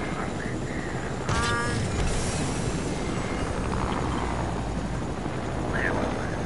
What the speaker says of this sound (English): No, we gotta dispose of the helicopter.